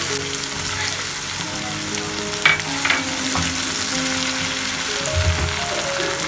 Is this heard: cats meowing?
no